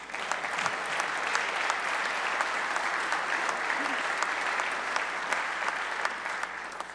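Audience at a 2025 State of the State address breaking into sustained applause, a thick, even roar of many hands clapping in a large hall, steady throughout with a faint voice beneath.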